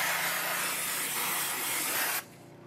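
Brake cleaner blasts from an aerosol can onto the brake disc of a Yamaha YZF-R 125 motorcycle, one steady, close, loud hiss lasting about two seconds before cutting off abruptly.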